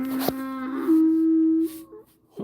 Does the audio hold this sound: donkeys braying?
yes